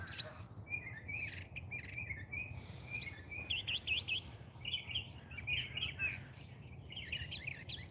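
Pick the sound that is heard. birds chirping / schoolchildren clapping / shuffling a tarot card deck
birds chirping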